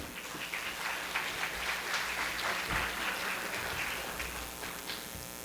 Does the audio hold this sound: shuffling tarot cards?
no